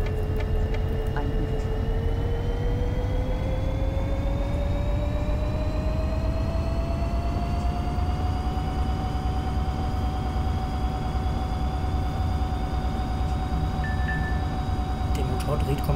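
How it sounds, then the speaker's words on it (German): A GBRF Class 66 diesel locomotive engine in a train simulator game revs steadily higher, its pitch climbing over several seconds, then holding beneath a constant rumbling background. "Der Motor dreht komplett hoch."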